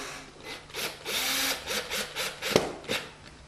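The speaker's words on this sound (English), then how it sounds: "You can do this with a Phillips screwdriver if you don't have a drill gun, but drill guns are awfully nice" A power drill whirs in short bursts as it drives a screw into a wooden picture frame, with faint scraping and a sharp click between runs.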